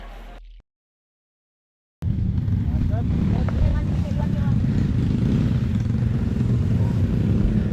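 A motorcycle engine runs steadily with a low rumbling drone, close to the microphone, after a brief cutout of silence near the start, with wind buffeting in the background.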